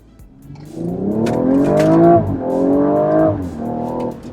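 A BMW M135i XHP Stage 3 in Sport Plus with DSC off accelerates hard from first gear. The engine climbs loud and close through two rising pulls with a brief dip at the shift, then a third shorter surge.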